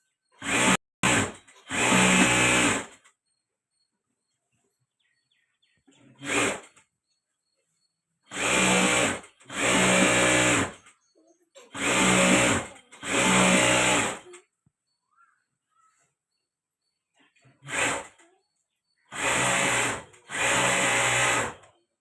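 A tailor runs a sewing machine fast, producing loud, dense whirring bursts of stitching a second or two long, separated by silent pauses, with no voices.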